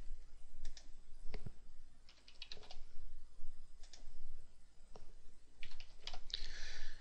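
Computer keyboard typing as statistics observations are entered, with irregular bursts of quick key clicks and short pauses, close and fairly quiet.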